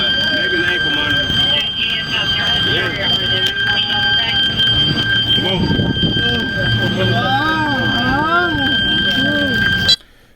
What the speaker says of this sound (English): they hit the panic alarm, and it set off an exterior alarm.